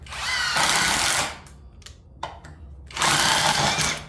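A Greenworks 24V cordless drill drives screws into material with no pre-drilled holes, whirring loudly in two sustained bursts with a quieter stretch of short clicks and knocks between them.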